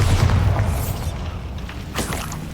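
The Bombarda blasting spell from the Hogwarts Legacy video game goes off in a loud, deep, rumbling boom, followed by a fading, crackling burst, with no voices.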